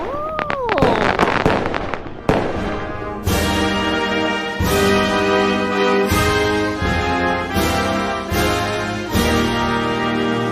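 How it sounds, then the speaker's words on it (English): Fireworks whistle upward and crackle with rapid bursts during the first two seconds, then a loud, steady musical passage takes over for the rest. "check out the fireworks"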